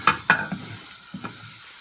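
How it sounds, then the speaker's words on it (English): Real butter melting in a frying pan for American pancakes, giving a low, steady sizzle with a few sharp clinks of utensils against the pan near the start. "And just put some butter in the pan like that."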